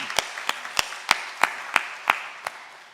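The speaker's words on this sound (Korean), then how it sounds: "우리 박수로 환영하겠습니다" A church congregation at a Sunday worship service claps in welcome, a sparse, slow run of about nine distinct hand claps, fairly close and evenly spaced, with no talking over them.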